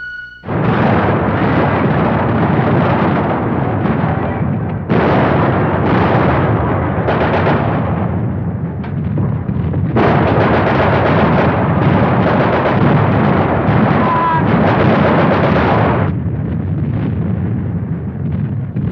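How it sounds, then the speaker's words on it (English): Sustained roar of World War I battle at the Gallipoli landing, dense artillery and gunfire blasts rumbling loudly and continuously in an old 1960s documentary soundtrack, with brief dips between heavy barrages. "They charge into overhead fire from a Turkish regiment."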